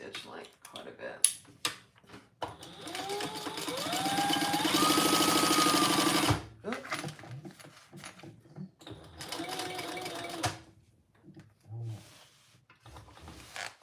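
A domestic sewing machine runs long basting stitches around a back panel, in bursts of rapid whirring and clatter, the longest lasting about two seconds, separated by pauses and brief talk.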